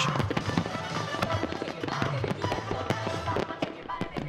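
Fireworks at a festival crackle and bang in a dense, continuous barrage, with many sharp reports overlapping a steady loud rumble.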